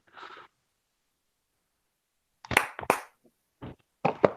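A few sharp hand claps close to the microphone, a quick burst followed by isolated single claps, with a short sound before them and silence in between.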